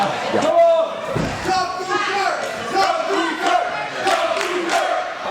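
Wrestling crowd at a Super Shogun Wrestling show rallying behind a kung fu wrestler, loud continuous shouting and cheering with rhythmic chant-like swells and an occasional thud.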